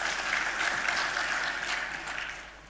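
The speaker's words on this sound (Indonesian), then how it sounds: "Tepuk tangan buat kita semua." An indoor audience claps together at the opening of the Indonesian football association congress, dense applause that holds steady and then fades slightly at the end.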